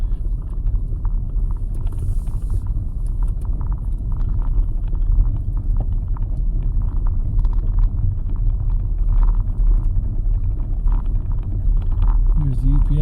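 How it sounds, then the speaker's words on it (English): A UPS delivery truck rumbles past on a village street during an outdoor tour of Eckley Miners Village, a steady low engine drone lasting throughout at close range. "Here's the UPS truck."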